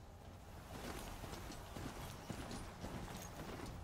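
Steady clip-clop hoofbeats of a rider's mount trotting in the video game Horizon Zero Dawn, a continuous rhythmic gait with a faint whinny-like tone, close and fairly loud.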